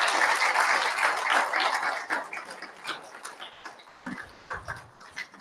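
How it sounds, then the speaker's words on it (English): An audience at a community event in Sydney applauds loudly and densely at first, then the clapping thins out into scattered individual claps and fades over the last few seconds. "And I think they deserve a massive round of applause."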